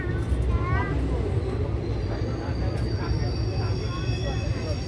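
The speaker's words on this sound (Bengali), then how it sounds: "ট্রেন ঢুকেছে আমাদের 3 নম্বর প্ল্যাটফর্মের" The Sealdah-Jangipur Express rolls into platform 3 at Khagraghat Road station: a continuous heavy low rumble of wheels and engine, with faint high metallic squeals or tones over it, steady and close.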